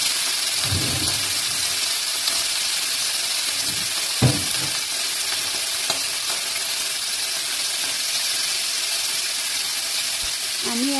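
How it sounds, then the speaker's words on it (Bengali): Boiled cauliflower pieces fry in hot oil in a kadai, giving a loud continuous hiss and sizzle with a few brief clatters of stirring and a short voice near the end. "ফুলকপিগুলো ভেজে নেব।"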